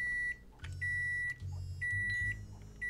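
A microwave oven in the video game Size Matters beeps several times: sustained electronic tones repeat at uneven intervals over a low, steady hum, with no voices.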